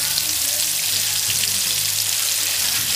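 Jamaican-style fried chicken sizzles in a pan over very high heat, with a dense, even crackle of hot oil throughout and no talking.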